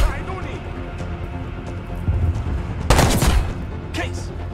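In a Call of Duty Black Ops 6 cutscene a loud gunshot cracks out over tense music and ambience. Someone speaks over the scene.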